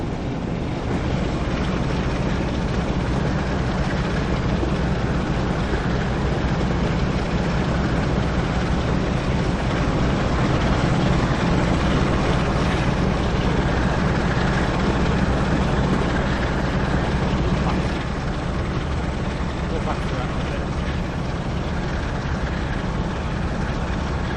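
Class 45 diesel locomotive engine in Train Sim World 5 on a Leeds to Manchester Victoria service, a loud steady low rumble and drone that holds throughout with constant broadband noise and no talk.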